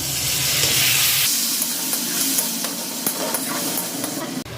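Raw papaya curry cooking in a hot pan as spices and a splash of water go in, giving a loud steady sizzle and hiss with stirring scrapes throughout, the sizzle easing slightly after the first second.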